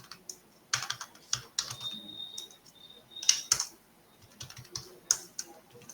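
Computer keyboard typing during a JavaScript coding session, irregular bursts of close crisp key clicks and clacks spread across the whole stretch, no talking.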